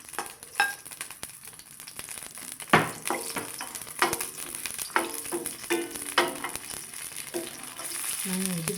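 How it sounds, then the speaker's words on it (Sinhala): Curry leaves, pandan, cinnamon, fenugreek, cardamom, ginger and mustard seeds sizzle in hot oil in a pan, a steady crackling fry broken by repeated scraping clatters of stirring. "මම ටික පොඩ්ඩක් බැද ගන්නවා."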